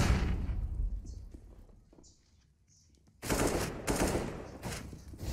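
Counter-Strike: Global Offensive gunfire in a professional ESL Pro League match shows a noisy opening, a quieter lull with faint distant shots, then loud, dense bursts of close automatic fire; no voice is clear.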